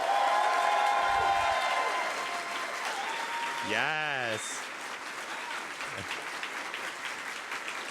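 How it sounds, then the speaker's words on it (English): Broad clapping from an audience at a TwitchCon 2019 panel, strongest at the start and gradually thinning out, with a few whoops and a voice speaking briefly over it. "can we hear first a round of applause?"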